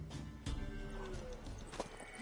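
Horse in a video game gives a short whinny among quick hoof clops and thumps, close and moderately loud, with game effects around it.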